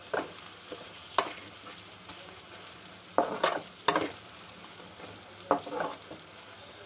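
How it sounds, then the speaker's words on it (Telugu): Pieces of liver frying in hot oil in a pan, a steady low sizzle broken by several louder stirring scrapes at irregular intervals. "నూనె బాగా వేగుతుంది ఇంకా బాగా వేగాలి"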